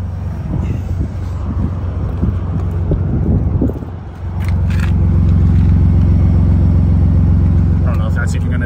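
A tuned 2021 Ford F150 truck engine cranks and starts, settling into a steady, loud, deep idle with a constant low hum after some early rumbling and handling noise.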